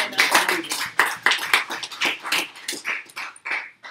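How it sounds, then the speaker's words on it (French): Church congregation claps in a steady, fairly quick rhythm during a French-language service, individual claps distinct and close, with some voices mixed in. "Applaudissez Jésus, alléluia."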